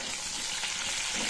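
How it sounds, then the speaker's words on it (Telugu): A tempering of garlic, dried chillies and curry leaves frying in hot oil gives a steady, dense sizzle heard close up, with a faint stirring texture and no voices. "కొంచెం కరివేపాకు వేసి ఈ తాలింపు మొత్తాన్ని ఫ్రై చేసుకోవాలి"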